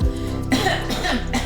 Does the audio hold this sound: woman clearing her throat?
yes